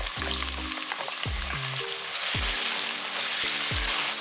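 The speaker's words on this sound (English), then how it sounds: "Stir fry the onions until they become golden brown in color." Sliced onions frying in hot oil in a pan, a dense continuous crackling sizzle with periodic scraping stir strokes, fairly close.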